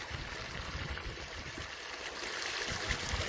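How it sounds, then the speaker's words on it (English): A clear mountain stream flows and babbles steadily along a hillside walking trail, a continuous broadband rush of water heard up close with no talking. "Again, this water you could drink straight from the stream"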